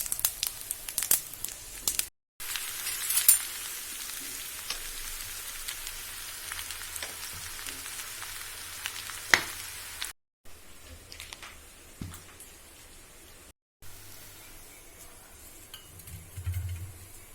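Cumin and potatoes fry in a wok with a soft, continuous crackle like light rain. The sound is fairly faint, with a few brief cuts and occasional louder pops.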